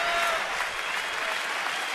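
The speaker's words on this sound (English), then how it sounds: "Crowd clapping for a 3rd out here in the 7th." A stadium crowd at a Chicago Cubs at Washington baseball game applauds steadily, cheering a third out in the seventh inning; the clapping forms a dense, even wash of sound from start to finish with no voices above it.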